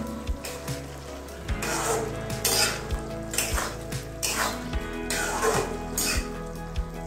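A spoon stirs brinjal curry with chopped coriander in a metal pan, producing repeated close scraping strokes and sharp clanks against the pan over a faint sizzle.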